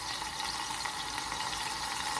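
Minced garlic, about four cloves, sizzles steadily in a hot pan, a dense continuous hiss with a bright crackling texture and no breaks throughout.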